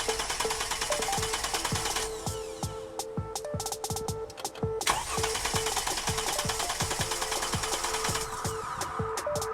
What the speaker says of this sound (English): your Mercedes will crank but just won't start, and it sounds similar to this.